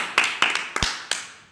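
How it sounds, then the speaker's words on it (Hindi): A few children in a classroom give a short, scattered round of clapping nearby, about half a dozen distinct sharp claps at an irregular pace that fade out quickly. "तालियां बजाओ।"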